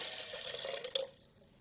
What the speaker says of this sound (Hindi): 1 गिलास मैंने इसमें पानी ऐड किया पहले